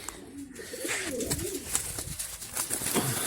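Pigeons coo close by in a soft, low, rolling warble, repeated a few times over faint background noise.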